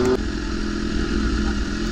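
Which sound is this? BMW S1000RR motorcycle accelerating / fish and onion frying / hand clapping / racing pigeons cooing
BMW S1000RR motorcycle accelerating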